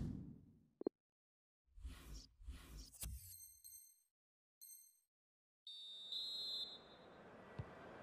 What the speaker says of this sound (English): the referee's blown his whistle, and we're off for the second half